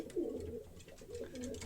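A racing pigeon cock coos close by, soft low rolling calls repeating through the stretch with brief pauses, alone without talk.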